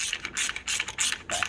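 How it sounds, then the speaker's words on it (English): A ratchet wrench loosening a spark plug on a Mercury outboard motor, making rapid close clicking bursts in four quick back-and-forth strokes. "make sure your wrench is going in the right direction"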